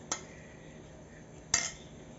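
A spoon clinks twice on a plate during a chicken nirvana tasting, two sharp, bright taps about a second and a half apart in an otherwise quiet room.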